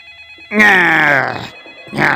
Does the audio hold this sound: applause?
no